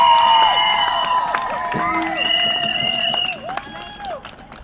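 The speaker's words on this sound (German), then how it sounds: "Gebt euch mal selber einen Applaus" A crowd at a Fridays for Future climate rally applauds, cheers and whoops continuously, dense and loud throughout, with shouting voices and whistle-like cries mixed in.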